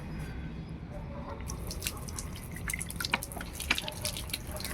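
Raw water with iron content flowing from a tap fed by a storage tank, a steady close splashing and dripping stream with irregular drips and plinks running throughout.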